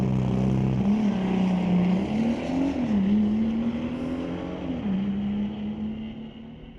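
An Audi and a Corvette drag race side by side on a street-legal drag strip, engines roaring loudly off the line and climbing through gear changes, then fading as the cars pull away.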